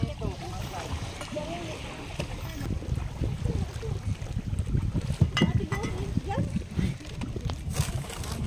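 A boat, likely a small outrigger banca, moves across the sea on a picnic trip between islands, with steady low engine and water rumble, splashes and wind throughout, and people talking nearby over the motion.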